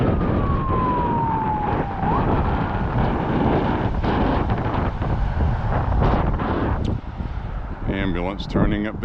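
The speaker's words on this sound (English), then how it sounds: "Ambulance turning up there towards the college." An ambulance siren sounds briefly at a distance, gliding downward as it passes, largely buried under heavy wind buffeting on the microphone during an outdoor walk.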